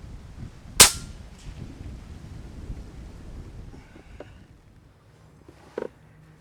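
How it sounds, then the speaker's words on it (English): A single sharp shot from a Kalibrgun Cricket II TAC-2 .30 caliber air rifle rings out loud and close in open air, followed by a faint distant report near the end over light wind noise. "Shooting the TAC-2 30 cal at 100 yards was blissfully easy."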